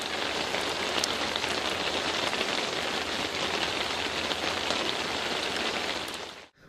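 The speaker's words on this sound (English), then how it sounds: "rain pouring down." Heavy rain pours down on a road in a dense, continuous hiss of drops, loud and even throughout before cutting off abruptly at the end.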